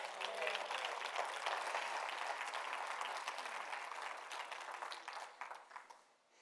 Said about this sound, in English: All more people need to clap than that.